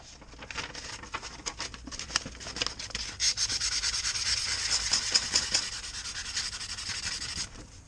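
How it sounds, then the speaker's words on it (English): Fine sandpaper rubs across a scratched surface on a 1999 Suzuki two-stroke outboard motor, a steady close-up rasping of quick back-and-forth strokes that builds and holds for several seconds with no talking. "Use a little bit of sandpaper, very fine, and then petroleum jelly."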